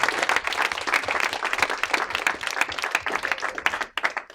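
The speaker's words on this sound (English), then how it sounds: "give them a round of applause." A hackathon audience gives a sustained round of dense clapping, fairly even throughout and dipping briefly near the end.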